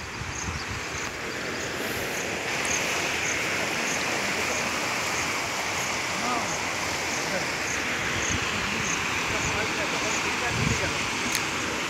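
Floodwater of the Kangsabati river rushing past, a dense continuous roar and hiss of moving water, broad and steady with faint background sounds.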